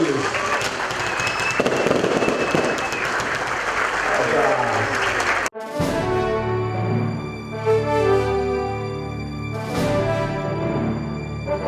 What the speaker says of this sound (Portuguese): Vamos aplaudir esse evento,